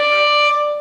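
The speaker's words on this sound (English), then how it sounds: "If you use your fourth finger, you'll get an octave plus a fifth," A single clear, pure string harmonic an octave plus a fifth up, sustained for under a second with a glassy bell-like tone, close and alone.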